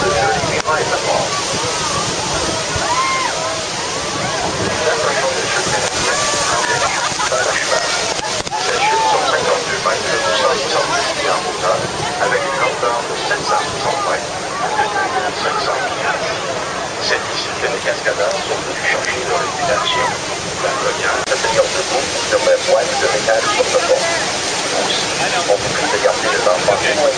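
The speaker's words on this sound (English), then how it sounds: "Mesdames et messieurs, la chute du Niagara." Niagara Falls roaring as a steady, dense wall of rushing water, loud and unbroken throughout, with voices and talk faintly mixed in beneath the roar.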